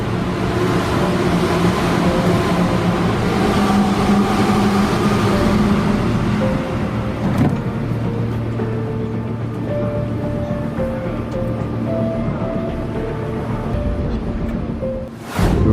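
A crowded Japanese commuter train at rush hour gives off a steady, loud rumble with sustained whining tones, holding continuously throughout, with a brief shift near the end.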